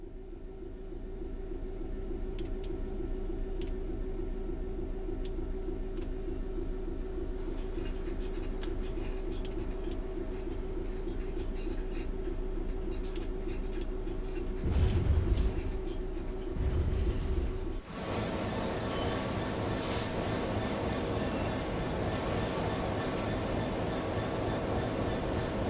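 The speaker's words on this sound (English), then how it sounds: "come to a stop using the direct brake now" A Class 66 diesel freight locomotive in Train Sim World 3 slows to a halt, with a steady low engine drone and rumble, a short heavier surge of brake noise near the end, then a shift to a brighter hiss; no talking.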